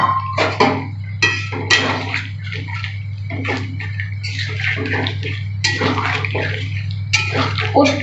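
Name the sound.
rinsing poppy seed bowl and pouring water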